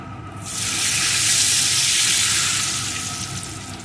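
Water poured into a pan of hot oil with turmeric and chili powder for a hilsa mustard curry erupts into a loud, steady hiss of sizzling that builds quickly and slowly eases off, with no talking.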